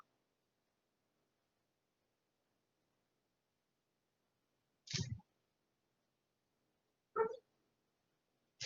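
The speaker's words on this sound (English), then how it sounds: "and then my dogs start barking" Dogs barking outside while neighbours do yard work, two short separate barks a couple of seconds apart, then the start of a third, against an otherwise silent room.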